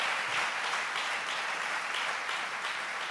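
A church congregation applauds during a sermon, a dense, even wash of clapping that holds steady and fairly loud throughout, with no voices on top.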